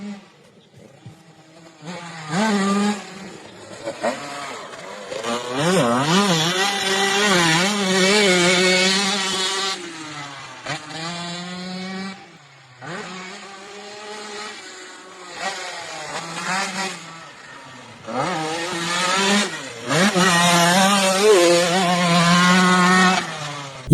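A modified two-stroke motocross motorcycle engine, converted from enduro use, is revved hard and repeatedly. Sharp, rising and falling bursts are separated by short idling pauses, loud and close, with no talk.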